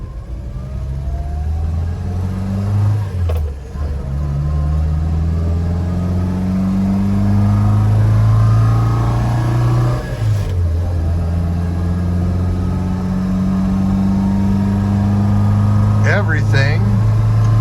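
A Volvo Amazon 122S with a newly installed gearbox drives down the road, its engine rumbling loudly and rising in pitch through each gear before dropping at the shifts, with someone speaking briefly over it.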